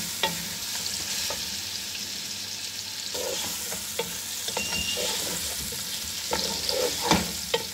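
Chicken browns in a pot for Punjabi pulao, a loud steady frying sizzle with repeated spoon scrapes and clacks against the metal.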